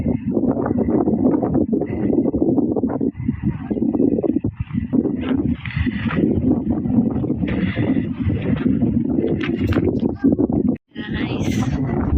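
Strong desert wind buffets the microphone continuously with a low rumbling roar, while faint voices and scattered clatter come through underneath.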